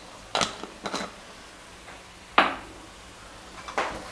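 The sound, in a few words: mixing cauliflower and peas in a pan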